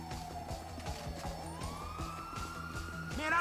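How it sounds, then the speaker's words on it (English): A wailing ambulance siren in Grand Theft Auto V rises and sweeps steadily over a dense in-game soundscape of engine rumble and clatter, growing louder toward the end. "Oh, it's the ambulance."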